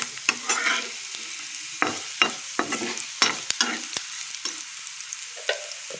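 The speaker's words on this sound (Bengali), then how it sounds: "এই দেখো আলু ভালো মতো ভাজা হয়ে গেছে" Potatoes fry in a pan and are stirred with sharp, irregular scraping strokes that break through a light background sizzle, fairly close and without any talking.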